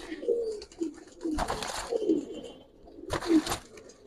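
Pigeons at a Bengali loft coo softly and repeatedly, close by, with brief bursts of wing or handling noise between the calls.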